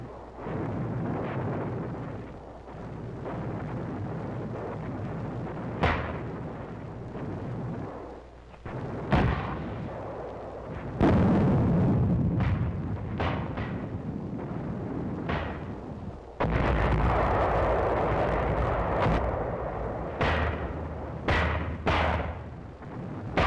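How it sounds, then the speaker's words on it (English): Mortar and 155 mm artillery fire in a 1945 wartime battle on Angaur island: a sustained rumble with repeated sharp blasts and booming detonations, some near and loud, others distant. "We called back for mortars and 155s."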